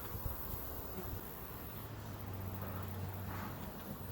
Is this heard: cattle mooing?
no